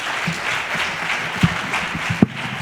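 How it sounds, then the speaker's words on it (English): Steady audience applause for a college gospel choir at an MLK convocation, moderately loud with a couple of sharper thumps standing out. "you can clap for them"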